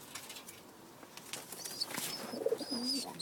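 Pet doves in a loft, one feeding its three-week-old chick, give soft low coos and brief wing flutters, fairly close amid faint chirps and background hiss.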